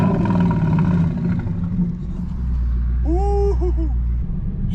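2012 Ford Mustang Boss 302 with sidepipe exhaust and an SLP Loudmouth axleback, resonator deleted, roaring loudly as the wheels spin, a sustained deep rumble that dips briefly then climbs again, with a short squeal of tyres near the end.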